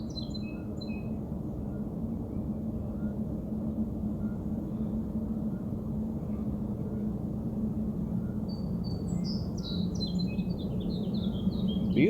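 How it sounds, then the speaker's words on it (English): Scattered bird chirps and song phrases come from a distance over a steady low background rumble, growing busier toward the end, on the bank of the Ohio River. "Birds are singing."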